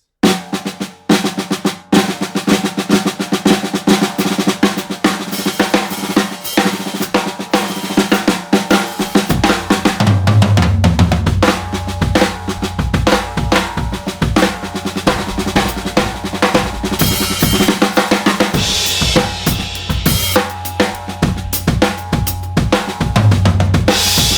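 Open, unmuffled snare drum at its usual tuning, played in dense, continuous patterns with bright ringing strikes and busy fills, loud and close throughout.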